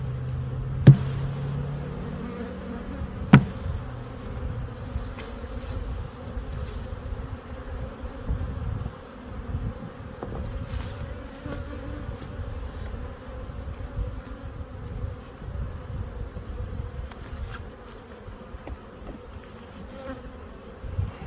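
Honey bees buzz steadily around an opened spring hive as frames of honey and pollen are lifted, a continuous close drone with a couple of sharp knocks near the start.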